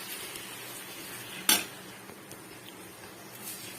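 Lemon pickle is stirred in a pan, with a soft oily sizzle underneath and one sharp metallic clink of a spoon against the pan partway through, followed by faint scraping.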